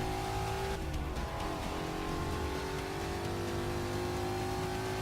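A Ford Mustang race car engine roars loud and continuous in Forza Motorsport 6, its pitch dropping briefly as it brakes for a turn, then climbing again under acceleration, with faint tire noise.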